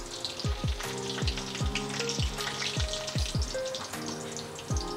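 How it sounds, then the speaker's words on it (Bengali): Black cumin and green chili dropped into hot oil in a pan, giving a steady close crackling sizzle with bursts of spitting pops throughout, and no one speaking. "কাঁচা লঙ্কা ফোড়ন দিয়ে দেব।"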